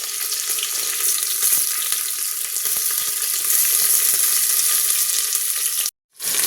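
Steady, loud sizzling of onions frying in hot oil, with occasional stirring clicks, then a brief cutoff near the end.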